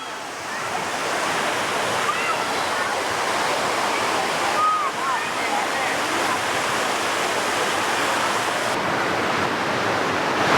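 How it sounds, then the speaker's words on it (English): Steady, loud roar of Tom Branch Falls, a 60-foot waterfall along Deep Creek, continuous broadband rushing water filling the scene with no pauses. "Now Tom Branch Falls are 60 foot high."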